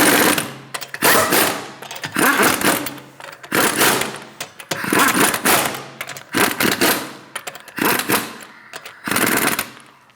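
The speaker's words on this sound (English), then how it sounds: "Snug the lug nuts down." Bursts of an impact wrench snugging the front wheel lug nuts on a 2016–2025 Chevrolet Malibu 1.5L, about eight loud rattling bursts of roughly a second each, separated by short pauses, with no talk.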